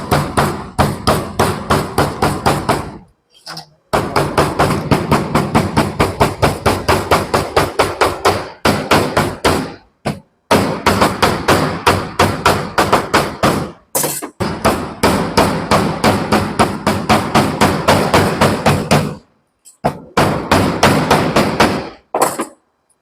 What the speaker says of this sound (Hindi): तो हम क्या करेंगे, मैलेट से इसको हम ठोकेंगे।